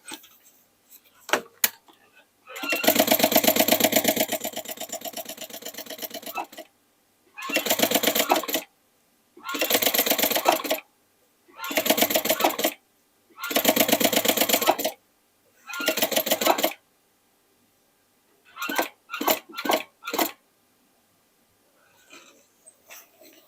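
A sewing machine stitches a make-up bag from old jeans in repeated bursts of a few seconds each, a loud close whirring rattle separated by silent pauses, ending with quick short runs.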